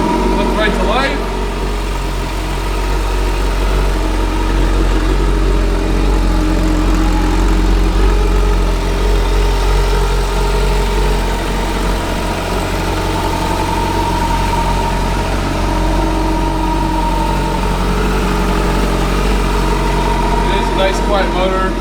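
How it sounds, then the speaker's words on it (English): A 2009 Kawasaki Concours 14 motorcycle engine idles close by, a steady deep low rumble with constant vibration throughout, with faint clicks near the start and end. "We can fire it up real quick so you guys can see it run, or hear it run"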